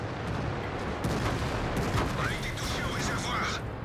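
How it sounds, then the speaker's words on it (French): Tank cannons firing at an IS-4 heavy tank in the World of Tanks video game, a dense barrage of booming shots and impacts layered over battle noise, with a voice speaking throughout. "Tout le monde tire dessus, on se fait tous avoiler."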